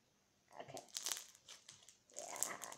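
Crunchy slime being squished and pressed by hand, producing faint crinkly, crackling bursts in two clusters, close up and quiet.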